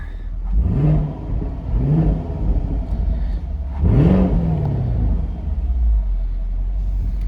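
A 2022 Camaro SS engine idles with a deep rumble, then gets three quick throttle blips, two short ones and a bigger, longer rev that falls back to idle, heard close and loud with no talking.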